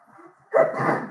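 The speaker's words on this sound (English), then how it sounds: "I have to sneeze." A single human sneeze follows a faint breathy lead-in, close and fairly loud, with a brief airy release trailing off.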